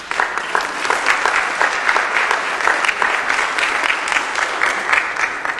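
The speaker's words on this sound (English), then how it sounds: "Give them a round of applause." A room of attendees at an Atlanta City Council meeting claps loudly and continuously in a dense, even burst of applause, with a little crowd murmur mixed in.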